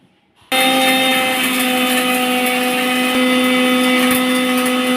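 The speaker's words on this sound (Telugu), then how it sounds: "ఇలా మెత్తగా అయ్యే వరకు మిక్సీ చేసుకోవాలండి." A mixer grinder starts abruptly after a brief quiet moment and whirs loudly and steadily, grinding homemade masala powder with a little salt, its high motor whine holding constant to the end.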